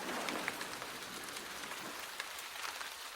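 Gentle rain patters steadily on pavement outdoors, a soft continuous hiss of fine drops with a few slightly louder taps, quiet and even throughout.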